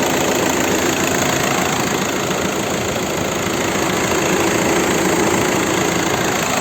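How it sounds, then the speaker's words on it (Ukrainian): A 2010 VW Touran Highline with the 2.0 TDI BMM diesel engine idles steadily, giving a loud, even, continuous clatter and hum with no talking over it. "Автомобіль заведений на даний час, демпфера не чути взагалі-взагалі."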